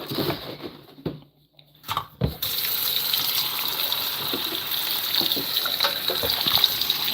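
A kitchen sink tap gushes while vegetables are washed for homemade ramen, starting with a few brief splashes and pauses before a steady, fairly close rush of running water takes over.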